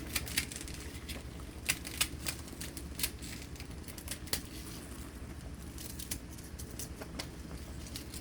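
Knife chopping vegetables on a board for homemade chicken noodle soup, a steady run of quiet, irregular sharp taps and crunches over low background hum.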